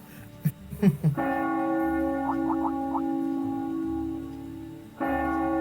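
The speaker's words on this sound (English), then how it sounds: "That must be Heimdall Cathedral's bell. It has a solemn, stately sound" Heimdall Cathedral's church bell in a video game rings out with a solemn, sustained tone, a few clear strikes blending into a long humming resonance over a soft ambient bed.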